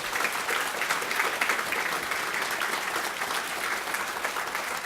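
An audience claps steadily and warmly for the panellists at a discussion event on the future of work. The dense, sustained applause stays fairly close, with no voices over it.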